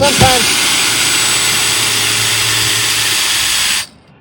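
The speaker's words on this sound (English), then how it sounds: "This board had screws in it, so I'm just matching the head and backing out these screws." A power drill backs screws out of an old rotten deck board, a steady high whine running for almost four seconds before it cuts off abruptly.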